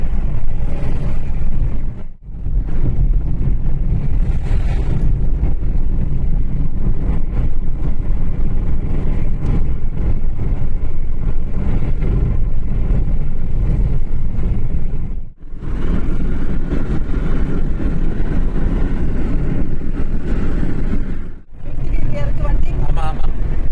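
Cars driving along a road as a 700 overtakes an i20, with a steady engine and road roar close by throughout and brief dips in the noise, while people talk over it.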